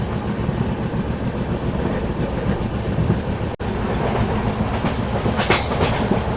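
The Darjeeling Mail, a passenger train, rumbles steadily along the rails from inside with a continuous loud clatter and faint rhythmic clicks of the wheels over joints.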